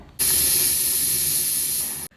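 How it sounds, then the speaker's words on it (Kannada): A pressure cooker used while making carrot halwa vents steam in one loud, sustained hiss lasting about two seconds, starting and stopping abruptly. "ಕುಕ್ಕರ್ನ ಕ್ಲೋಸ್ ಮಾಡಿ 2 ವಿಷಲ್ ಬರೋ ತನಕ ವೆಯ್ಟ್ ಮಾಡಿ"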